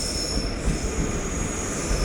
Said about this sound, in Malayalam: ഇതാ വരുന്നതാണ് പാലക്കാട് തിരുച്ചെന്തൂർ എക്സ്പ്രസ്